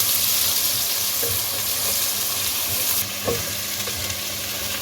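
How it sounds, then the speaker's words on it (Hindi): Sliced onions frying in hot oil with spices for fish biryani, a steady close sizzle throughout with occasional stirring clicks and scrapes of a utensil in the pan, no voices. "अब प्याज को इसमें फ्राई करें।"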